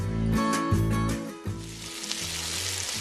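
Farofa of içá ants fries with pork lard and garlic in a pan on a wood-fired stove, a loud continuous sizzle broken by bursts of stirring and clattering.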